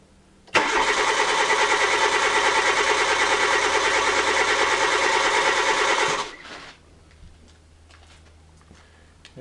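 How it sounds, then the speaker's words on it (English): A car engine cranks on the starter for about six seconds in a rapid, even, loud churning whir, then cuts off abruptly, leaving a faint hum and occasional ticks. "I'm going to crank the engine while we're observing the screen of the scope"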